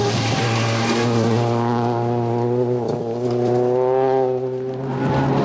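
Pasanen's Ford Focus WRC rally car at Rally Finland 2001 screams past on the stage, its engine note climbing and dipping through gear changes as it roars loudly close by.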